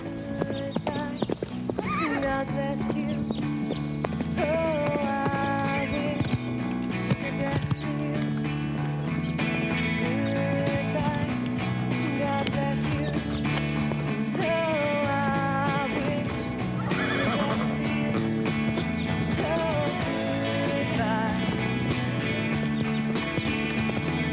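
A horse gallops with a rider in an animated cartoon, giving a steady, loud clip-clop of hoofbeats with whinnies, all under a music track.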